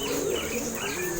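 Racing pigeons coo softly at close range, with brief overlapping calls against a steady hum of background noise and no talking.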